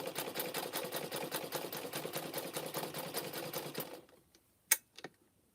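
Sewing machine stitching coiled rope for a teacup, running fast and steady at close range for about four seconds, then stopping, followed by a sharp click and faint handling.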